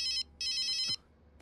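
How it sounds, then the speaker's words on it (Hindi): A mobile phone ringtone sounds in two loud bright electronic bursts with a short gap, followed by quiet room tone and faint rustling, no talk. "फोन बज रहा है तेरा?"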